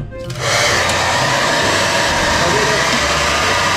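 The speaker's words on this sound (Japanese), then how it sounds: "まあ、ドライヤーの風でね" A hair dryer blows steady, loud broadband air over a freshly washed and retrobrighted NEW Famicom console, switching on after a brief quiet moment and then roaring continuously up close.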